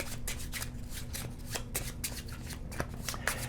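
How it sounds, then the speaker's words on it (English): A deck of Cartographers board game cards, including hero cards, is riffled and shuffled by hand in quick, repeated rustling bursts, close and fairly soft, with no talking. "we will shuffle all of this together."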